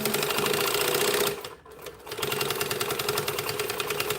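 Sewing machine running steadily as it stitches a fabric bag, with a brief pause in the middle before the motor resumes for back stitching; close and loud, no talk.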